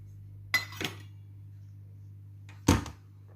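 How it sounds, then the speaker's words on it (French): Two eggs added to a bowl of a Compact Cook Pro food processor for a carrot flan, making two sharp clinks about two seconds apart, close and distinct over a low steady hum. "Je vais maintenant rajouter les 2 œufs."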